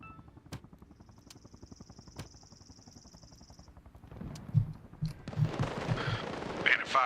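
Mortar fire in a military shooter, heard as distant, rhythmic thumps and rumbling blasts that grow louder and denser toward the end.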